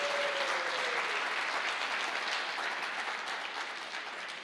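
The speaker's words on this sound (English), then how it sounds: "Give yourself a round of applause." Audience applause at a film premiere in Namibia, a steady dense wash of clapping from a large crowd that holds level and fades slightly toward the end, with no talk over it.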